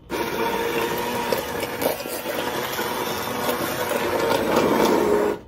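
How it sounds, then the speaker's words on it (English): An immersion blender whirs through hot apricot jalapeño jam in a pot, a loud steady motor drone with churning, sloshing texture that holds for several seconds before cutting off. "I like to use my immersion blender, and I don't worry about making sure it's all consistent, the same size. I just want to break down these chunks."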